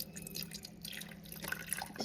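Water trickles into a cooking pot, a soft dripping and splashing that stays faint and close throughout.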